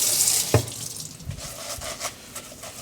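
Tap water runs steadily into a kitchen sink while a grain washer is rinsed under it, with a few knocks and splashes.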